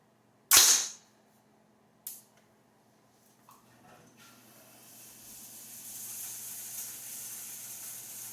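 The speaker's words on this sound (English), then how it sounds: "I loaded up a full magazine here. Let's see if we can get this to run through all the ammo." A fire-damaged AR rifle cracks off a loud, sharp report, then a second shot about a second and a half later, followed by a faint hiss that slowly swells.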